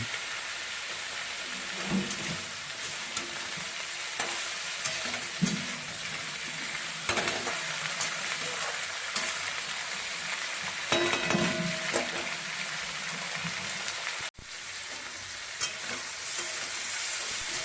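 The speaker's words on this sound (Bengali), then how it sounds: "সবজিটা আমার ভালো করে ভাজা হয়ে গেছে, দেখুন।" Chopped vegetables and tomato stir-fry in a pan for a fish-head curry, a steady close sizzle broken by repeated spatula scrapes and stirring knocks, with no voices.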